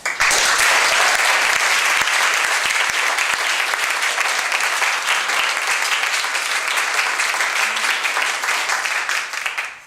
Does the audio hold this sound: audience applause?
yes